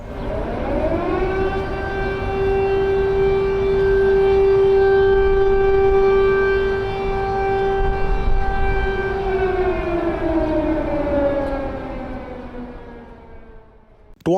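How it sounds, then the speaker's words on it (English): Air raid siren wailing over Kharkiv, Ukraine, a loud sustained tone that rises, holds steady for several seconds, then slowly winds down in pitch and fades, with no talk. "where air sirens are the norm"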